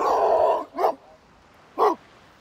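Dog barking near a beach: a long loud bark or whine at the start, then two short sharp barks spaced about a second apart, close by and alone.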